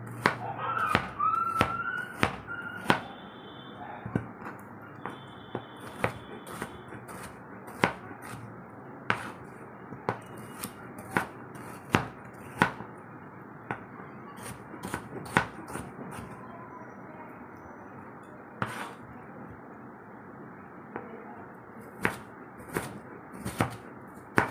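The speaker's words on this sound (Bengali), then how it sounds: "পেঁয়াজ আর আলুটা কেটে নিচ্ছি, আর দেবো সাথে কাঁচা লঙ্কা, একদম ছোট ছোট করে কাটবো পেঁয়াজ আর আলুটা" A knife chops onion and potato finely on a board, sharp close taps in irregular bursts and steady runs across a quiet room.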